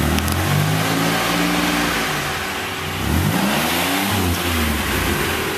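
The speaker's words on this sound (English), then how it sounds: "it actually sounds like the car has a muffler now, just better than stock" A car engine fitted with a makeshift muffler idles low and then revs up, a loud, continuous throaty rumble that dips briefly and climbs again, close by with no talking.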